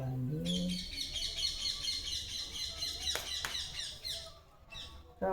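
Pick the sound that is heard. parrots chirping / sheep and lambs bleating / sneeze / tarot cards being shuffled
parrots chirping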